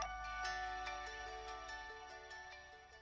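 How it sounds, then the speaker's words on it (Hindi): Mobile phone ringtone repeating in a steady electronic melodic pattern, fairly quiet and alone, heard in an Indian action thriller scene with no voices over it. "इतनी बार काटने के बाद भी वो फोन करता ही जा रहा है"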